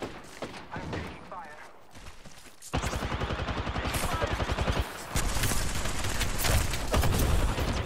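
Gunfire in the Apex Legends video game: rapid bursts of shots ring out in quick rhythmic strings, loud and close, with a player talking over the start.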